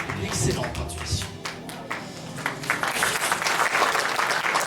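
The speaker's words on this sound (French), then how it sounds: "je crois qu'on peut applaudir Gérald puisque vous avez décidément une excellente intuition" Audience applause at a stage magic gala, with steady clapping from a crowd filling the room for several seconds, fairly close and loud, mixed with a few voices.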